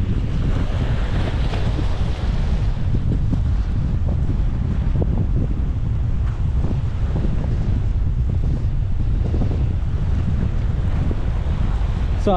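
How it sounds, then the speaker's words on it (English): Strong wind at a beach in Caleta de Fuste, Fuerteventura, buffets the microphone with loud, constant low rumbling, while surf and gusts roar underneath throughout. "But it's so windy."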